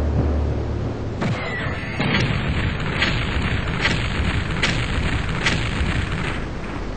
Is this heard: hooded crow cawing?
no